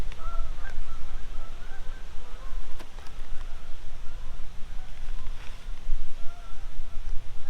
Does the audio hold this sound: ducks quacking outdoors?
yes